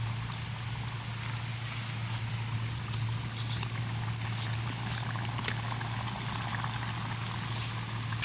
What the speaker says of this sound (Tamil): எண்ணெய் நல்லா கொதிச்சிட்டுது